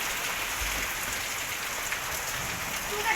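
Heavy, fast rain falls steadily in an Odia village, a dense even hiss with no pauses, close and loud throughout.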